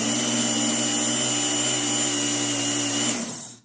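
A 1/2 x 12 inch leather honing belt machine whirs with a steady, loud motor drone while compound is applied, then spins down and cuts off at the end.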